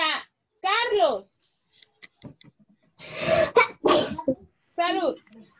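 A child's sharp sneeze bursts out mid-room during a math class, followed by brief breathy sounds and a few short spoken bits around it.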